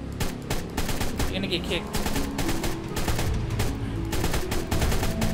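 A 12-gauge shotgun repeatedly firing at piranhas underwater in the video game Ark Survival Evolved, loud booming shots in quick succession under a short spoken line.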